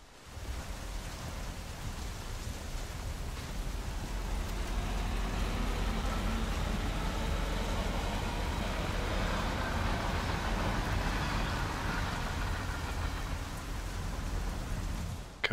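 Steady rain in the video game Hitman 3, a dense, continuous wash of falling water on surfaces that holds evenly for the whole stretch, with no voices.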